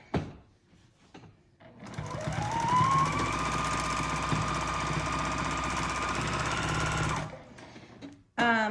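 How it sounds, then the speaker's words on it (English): A sewing machine runs steadily for about five seconds during free-motion quilting, a fast mechanical chatter with a faint metallic jingle, close and loud, starting and stopping cleanly between quiet gaps. "Definitely hear some jingling in my machine, and it's not the bobbin due to being out of thread"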